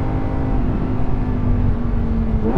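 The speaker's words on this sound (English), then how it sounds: "Such a wonderful engine, this." A Lamborghini Huracan Tecnica V10 engine roars continuously at high revs, loud and close, with a steady droning growl throughout and no voices.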